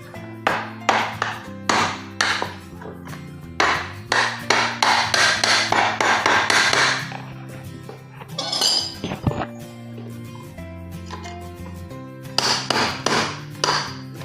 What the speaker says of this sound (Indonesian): Jadi kita pahat.